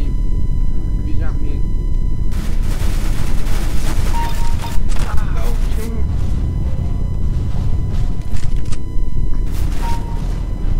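Gunfire in the first-person shooter CS:GO, repeated shots and bursts scattered through the whole stretch at a steady loud level, with someone talking over much of it.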